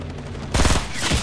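Gunfire in the Fortnite video game, a single sudden loud blast cutting in halfway through with a rough rattling tail, following a quieter stretch.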